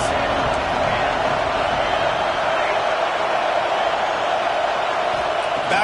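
A football stadium crowd at a college game between Oklahoma and Notre Dame keeps up a steady, dense roar behind the defense on third down. The broad wash of cheering stays loud and unbroken throughout.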